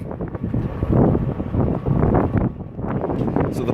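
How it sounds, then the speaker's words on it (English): Gusty wind on a Chicago morning buffets the microphone in heavy low rumbling surges that rise and fall. "It's so windy."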